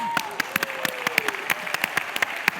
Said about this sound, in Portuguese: Podemos levantar-nos e dar uma salva de palmas?